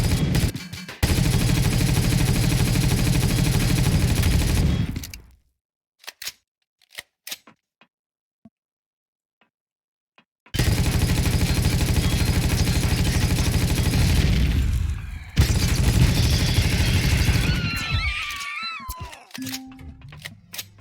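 Turrets in Empyrion Reforged Eden fire in long, loud, rapid automatic bursts, broken by a near-silent gap with a few scattered clicks, then another sustained volley and warbling high-pitched tones.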